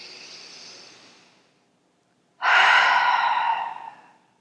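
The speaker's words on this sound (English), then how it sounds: "taking one final grounding breath in" A deep grounding breath at the end of a beginner yoga session for hamstring flexibility: a gentle, fading exhale, a brief pause, then a strong, close, airy inhale lasting about two seconds.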